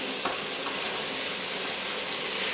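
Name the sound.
vegetables sizzling in hot pan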